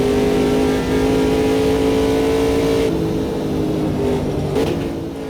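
A GT3 race car engine in the sim racing game Automobilista 2 drones steadily at high revs, holding a sustained harmonic whine that eases slightly about halfway through with a brief shift blip near the end.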